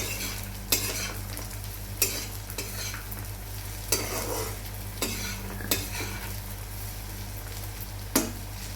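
Cashews and raisins fry lightly in a pan for prawn pulao, with a steady soft sizzle and a spoon scraping and stirring at intervals, several sharp knocks against the pan.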